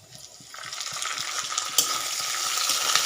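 Curry leaves drop into hot oil in a pan during semolina idli preparation, the sizzle swelling suddenly and then holding as a steady bright crackle, with soft rhythmic scrapes of stirring underneath throughout.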